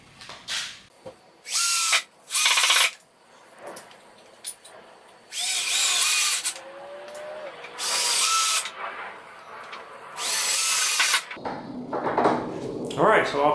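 A power drill driving screws to fit casters onto a wooden stand: repeated loud whirring bursts of a few seconds each, with clunks and handling noises between them and a voice speaking near the end.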